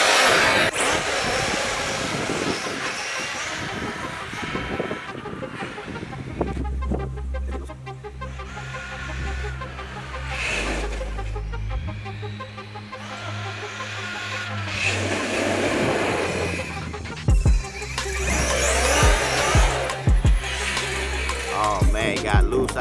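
A Losi 3xle RC truck fitted with a new motor runs nearby, its electric whine rising and falling in pitch as it accelerates and slows, with loud bursts and rattles from the truck over a steady outdoor background.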